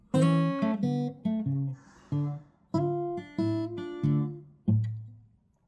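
Acoustic blues guitar plays the opening two bars: a series of crisp plucked notes and chords, each ringing out and decaying, in a steady unhurried rhythm, close and clear with no voice over it.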